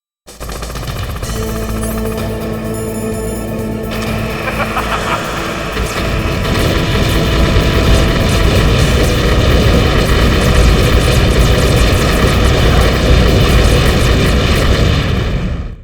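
A Hind attack helicopter from Metal Gear Solid roars continuously and loudly, its engine drone thickening partway through, while rapid machine-gun fire rattles steadily over the noise.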